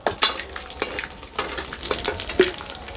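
Cumin and fenugreek seeds crackle and sizzle in hot oil, with spoon stirring scrapes and sharp pops over a steady frying hiss, close and fairly loud.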